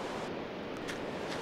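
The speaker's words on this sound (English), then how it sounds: "And it's pouring down rain." Heavy rain pours down in the blocky world of Minecraft, a steady, even hiss of downpour that fills the whole stretch without breaks or other sounds.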